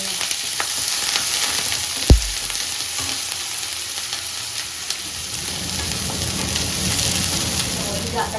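Continuous crackling sizzle of a garlic tempering frying in hot oil, with a single sharp knock partway through and occasional faint speech in the background.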